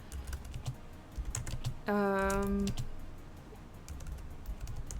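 Typing on a computer keyboard during a typing game: a quick, uneven run of close key clicks. A short sustained tone sounds midway, and faint talk sits in the background.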